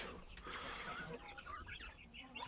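Backyard chickens clucking close by in a busy run, scattered calls overlapping with low chatter from the flock.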